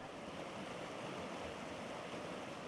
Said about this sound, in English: let the rush of the river lull me into slumber